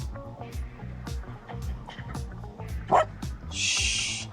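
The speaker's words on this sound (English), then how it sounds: "Stop barking at people." A dog gives short, repeated bow-wow barks close by, mixed with whimpery yips, followed by a burst of hiss at the end.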